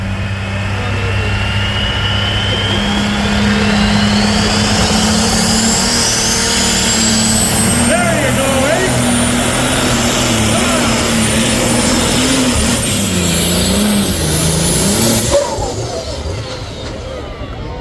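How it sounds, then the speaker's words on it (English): A Ford pro stock tractor engine roars continuously at a tractor pull, a loud sustained drone with rising and falling pitch that holds steady for the whole stretch, with crowd noise and a commentator talking faintly underneath. "this tractor will make the ground shake, ladies and gentlemen, no doubt about it."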